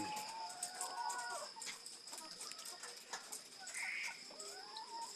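Chickens clucking on a poultry farm, several soft repeated clucks and short calls at close range over a quiet background, with a brief murmur of voices.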